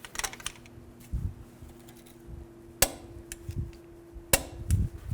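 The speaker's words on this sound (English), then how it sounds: "you're going to torque this to 240 foot-pounds using the 24 millimeter socket" A crank bolt on a 2000-2013 GMC Yukon being torqued with a 24 mm socket during a harmonic balancer job: two sharp metallic clicks and scattered light knocks ring out over a steady low hum.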